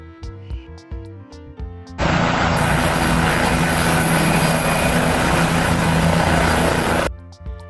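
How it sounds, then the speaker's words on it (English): Helicopter heard up close, a loud sustained rotor and turbine roar that begins abruptly, holds steady for about five seconds, then cuts off. "Helicopter. This is helicopter."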